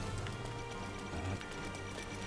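Steady, faint rain hiss from Zelda: Breath of the Wild covering the whole moment as a dense wash of patter, with a low humming tone underneath and no clear talk.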